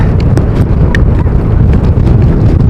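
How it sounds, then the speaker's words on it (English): Strong wind at Amsterdam airport buffets the microphone in a loud, constant low roar, with scattered faint clicks and knocks through it. "it is very windy out here"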